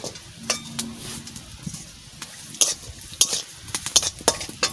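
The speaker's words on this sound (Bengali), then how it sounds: "এই দেখো কিশমিশ কাজু বাদাম সুন্দর করে ভেজে নিচ্ছি" Raisins and cashews fry in ghee for sooji halwa, a soft steady sizzle broken by frequent scrapes and clinks of a spoon stirring against the pan, close and alone.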